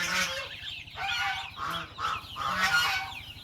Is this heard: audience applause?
no